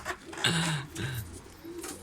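Pigeons cooing in a bird loft holding healthy flying birds: a few low, rounded coos close by, the strongest near the start followed by softer repeated calls against quiet background.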